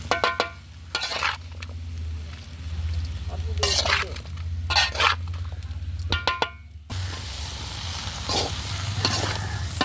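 Jackfruit pieces stir-frying with chili powder in a pan: a continuous close sizzle runs throughout, with repeated bursts of vigorous scraping and tossing from a utensil and occasional metallic clinks.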